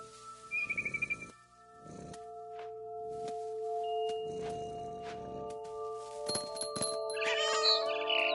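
A cat meows repeatedly in the video game What Remains of Edith Finch, several distinct close calls spread over the passage, with tonal game sounds and a brighter chirping effect rising toward the end.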